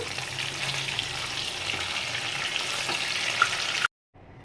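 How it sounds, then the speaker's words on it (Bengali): Marinated chicken pieces for chilli chicken frying in hot oil, a steady close hiss of sizzling that runs evenly and then cuts off abruptly near the end. "এটাকে এভাবে ভাজতে দিয়ে দিয়েছি ঠিক আছে এভাবে ভাজা হচ্ছে এগুলো"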